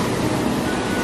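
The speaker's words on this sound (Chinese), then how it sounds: "这海浪超级大" Big ocean waves surge on a shore where seaweed is being pulled, making a loud, steady, close roar of surf with no talk over it.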